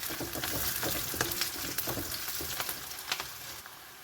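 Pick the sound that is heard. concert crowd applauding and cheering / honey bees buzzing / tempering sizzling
tempering sizzling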